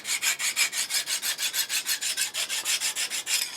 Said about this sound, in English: Kind of like a sawing motion up and down the blade